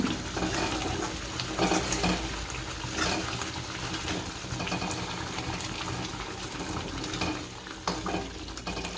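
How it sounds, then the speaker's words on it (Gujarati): Green onion curry being stirred in a pan after salt goes in, a steady scraping and sizzling bed of sound with faint watery crackle, close and continuous without talk. "હવે આમાં મીઠું નાખશું અને હલાઈ નાખશું"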